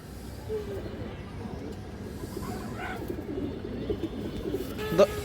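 Domestic fancy pigeons coo in low, soft, repeated murmurs at close range, with someone talking over them throughout.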